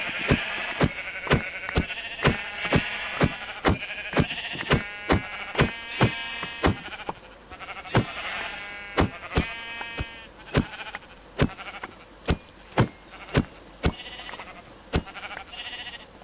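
A group of Minecraft sheep in the FTB Skies 2 modpack bleat repeatedly, with short overlapping bleats over a steady run of regular sharp clicks from the game.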